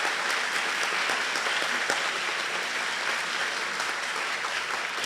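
Sustained audience applause for the candidates at a Northwoods governor candidate forum, a dense, even clatter of many hands clapping without pause.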